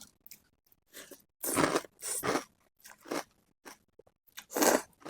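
Crunchy food is bitten and chewed alongside papaya salad, a series of sharp, close crunches in uneven bursts separated by short quiet gaps.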